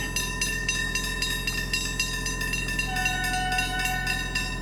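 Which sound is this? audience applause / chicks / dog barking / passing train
passing train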